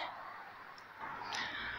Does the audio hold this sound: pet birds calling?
yes